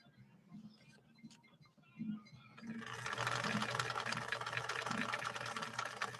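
A 1961 Viki sewing machine stitches Sulky rayon embroidery thread from Germany into polyester-acrylic velvet on stitch 2, cam C. After a few seconds of faint hum and light clicks, a loud, steady, rapid mechanical whirr runs close up to the end.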